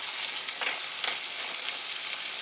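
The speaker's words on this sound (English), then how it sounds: "browning butter to sear that" Pork chops searing in browning butter in a pan, a steady close, bright sizzle and crackle with faint spattering pops, with no voices.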